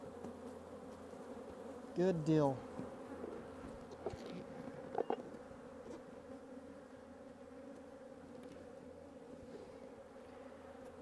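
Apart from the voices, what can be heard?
bees buzzing in a box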